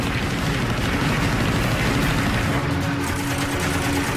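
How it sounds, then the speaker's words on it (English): Rear gunners aboard Japanese Val dive bombers fire machine guns upward at a Wildcat fighter during an attack on an Allied convoy, a dense, continuous roar of rapid gunfire over heavy engine rumble, loud and unbroken throughout. "The Val's rear gunners fire up at Sweat's Wildcat."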